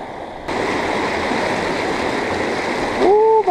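Frying Pan River water flowing during spring dry fly fishing, a steady broadband rush that swells in partway through and holds evenly, with a brief voiced sound near the end.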